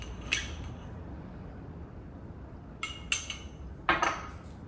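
A spoon clinks against a bowl as honey and red fruits go into homemade enriched ice cream, with one short clink early, then a cluster of three sharper clicks near the end over a quiet room hiss.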